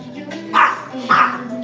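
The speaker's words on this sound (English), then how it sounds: "he just barking at my hands" A dog barks at a person's hands, giving two sharp close barks with a whine between them, loud against a quiet room.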